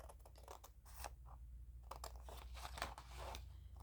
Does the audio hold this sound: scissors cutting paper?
yes